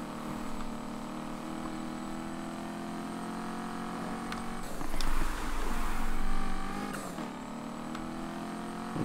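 A car in Need For Speed Heat drives at a steady engine hum, with a louder rushing swell midway as it rolls through a gas station.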